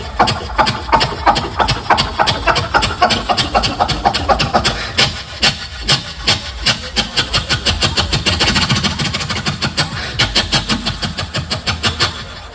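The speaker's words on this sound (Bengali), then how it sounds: "ভ্যান চালক স্টার্ট দিচ্ছে।" A motorized machine van's engine starts and runs loud and close, a rapid rhythmic chugging thump that pulses unevenly throughout, settling into a throbbing idle.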